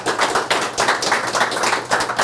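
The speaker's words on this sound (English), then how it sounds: "Let's give him one more round of applause" Steady applause from a crowd at an executive summit, clapping in dense bursts that swell and ease a few times, fairly loud and without talk.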